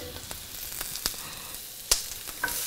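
Shrimp fajitas sizzle in a frying pan as it is shaken. A steady hiss runs throughout, broken by occasional sharp clicks and clatters of the pan.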